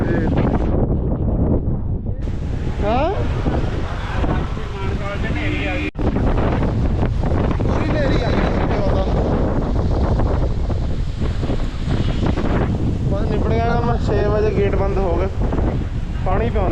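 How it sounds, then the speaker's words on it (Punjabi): Strong dust-storm wind gusts across a village, roaring continuously over the microphone for the whole stretch while people talk through it. "ਫੁੱਲਮ ਫੁੱਲ ਨੇਰੀ ਆ ਗਈ"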